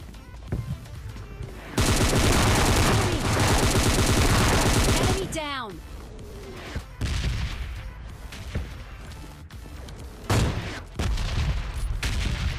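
Rapid automatic gunfire bursts loudly for several seconds in a PUBG Mobile Lite firefight, followed by scattered single shots and short volleys at varying distance.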